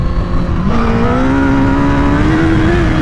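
A sport motorcycle engine revs up as the throttle opens, a steady loud drone that steps up in pitch and keeps climbing, no talk over it.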